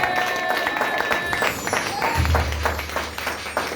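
A church congregation breaks into applause, a steady patter of many hands mixed with voices and cheering, and a deep low rumble enters partway through.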